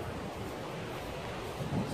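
Steady outdoor wind buffeting a microphone at a tomb site in New Zealand, a continuous low rumbling roar with broadband hiss and a slight gust near the end, no talk.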